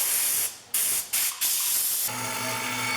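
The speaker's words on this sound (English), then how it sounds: "Then sprayed it again with air." Compressed air sprays in bursts over a routed wooden sign after brushing: several short loud hissing blasts with brief gaps, then a steady continuous hiss over a low hum to the end.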